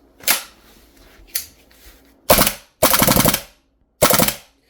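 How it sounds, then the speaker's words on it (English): GE XM7 airsoft rifle with a suppressor firing full auto, heard as two short single pops followed by three loud, rapid rattling bursts of popping shots, close and with no talk. "the popping sound is because of the suppressor"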